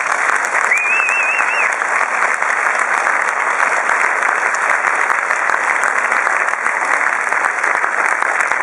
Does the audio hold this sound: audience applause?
yes